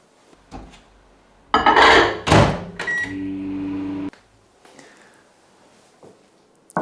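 A microwave oven melting chocolate for a 30-second burst: a couple of clunks and bumps from the door and bowl, then a steady humming drone for about a second before it cuts off abruptly, followed by quiet.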